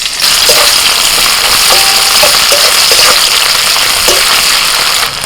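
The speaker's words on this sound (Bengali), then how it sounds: "তেল গরম হয়ে গেছে, তেলের মধ্যে দিচ্ছি দুটো শুকনো লঙ্কা। লঙ্কাটা একটুখানি ভাজা হয়ে গেলে দিয়ে দিচ্ছি পেঁয়াজ কুচি" Dried red chillies and chopped onion frying in hot oil, giving a loud, steady sizzle with crackling pops throughout and occasional stirring scrapes, no voices.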